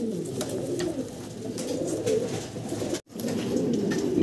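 Racer pigeons in a pigeon keeper's loft coo steadily, their low, throaty, repeated calls overlapping from several birds close by with a brief dropout partway through.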